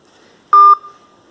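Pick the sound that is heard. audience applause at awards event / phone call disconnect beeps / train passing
phone call disconnect beeps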